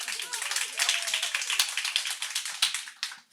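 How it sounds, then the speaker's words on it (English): An audience at a consumer impact summit gives a steady round of crisp clapping, moderately loud and continuous for a few seconds before tapering off, with faint voices underneath. "Applause."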